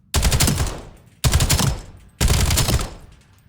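AK-27 rifle fire in Black Ops 7, three loud sustained automatic bursts of about a second each with brief pauses between them, close and dominant.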